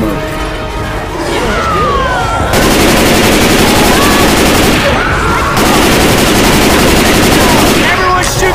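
Rapid video-game gunfire from Left 4 Dead 2 as players shoot at a Tank, loud continuous bursts of automatic fire with brief pauses and game noise around them.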